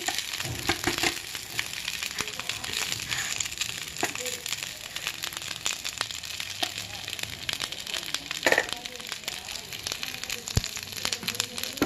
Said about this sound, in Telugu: ఎంత వేసినా ఆయిల్లో పడంగానే వేడి అవ్వగానే చూడండి దగ్గరకు వచ్చేసింది ఆకు అనేది